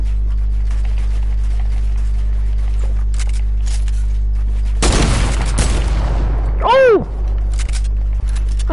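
A sniper rifle shot in a video game bursts out loud and sudden over a constant low hum, followed by a ringing, descending whistle-like tone and sparse clicks.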